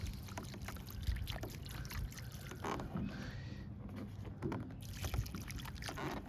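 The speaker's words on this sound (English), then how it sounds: "here's my gallon jug that I filled up with my double fertilizer, and I'm gonna pour about half of this gallon jug in here" Double-strength fertilizer water pours from a gallon jug into a Fiddle Leaf Fig pot, a soft, continuous splashing trickle heard fairly faintly and close up for several seconds.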